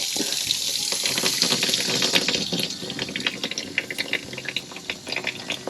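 Hot water runs steadily from a faucet in a Ram Promaster van's kitchen galley, a close, continuous splashing hiss into the sink with no one talking.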